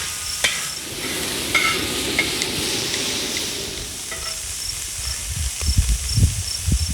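Red chile added to a hot pan with pork in lard, giving a sizzling hiss with stirring scrapes and small crackles, close by, settling into lower rumbling stirs near the end.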